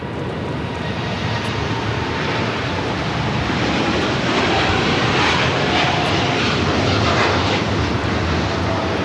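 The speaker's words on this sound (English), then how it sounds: "DHL operated by Polar Air Cargo 789 taking off to Anchorage on the 747-8 freighter" A DHL Boeing 747-8 freighter operated by Polar Air Cargo thunders down the LAX runway on takeoff, a loud, continuous broadband jet roar that swells slightly toward the end.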